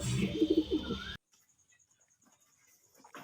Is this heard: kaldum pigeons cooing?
yes